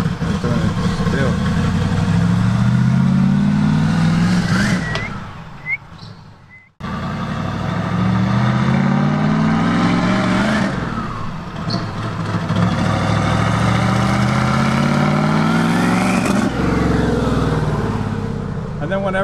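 A turbocharged 1969 Mustang coupe running on E85 is revved hard several times, each rev a loud rising roar that falls back toward idle, with one brief pause in between.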